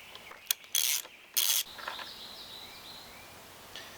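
A ratchet clicks in two short, quick bursts while loosening a fork bolt on a Yamaha TTR90 dirt bike, close and fairly loud, followed by faint scraping and near silence.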